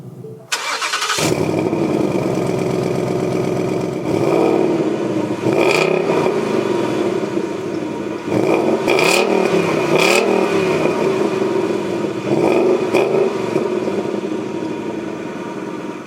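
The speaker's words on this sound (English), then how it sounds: "now inside the car with my foot on the brake, we can go ahead and start it up" A 2020 Ford Mustang GT V8 cranks and fires into a loud, steady idle, then the driver blips the throttle in several sharp revs that rise and fall, close and with no talk.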